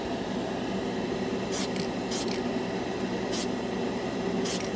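Krylon chrome spray paint hisses onto a black spoon in four short, bright bursts over a steady background hum, close and moderately loud.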